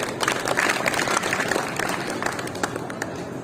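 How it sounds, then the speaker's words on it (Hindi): Listeners at a Hindi poetry gathering (kavi sammelan) in Nimbahera clap together in a loud, busy burst of applause that holds for a few seconds with no voice over it. "एक बार जोरदार तालियां बजाइए"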